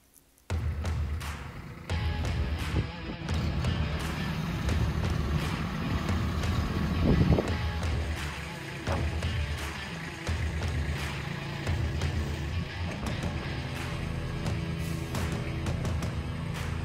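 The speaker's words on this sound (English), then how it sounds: "It was really windy." Strong wind buffets an outdoor microphone near a tractor and flail mower, a loud continuous low roar with gusty surges and crackling bursts that goes on almost without a break.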